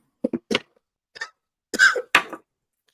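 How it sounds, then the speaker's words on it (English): A few sharp, separate coughs and throaty bursts, close and loud, with silence between them. "Cough alert."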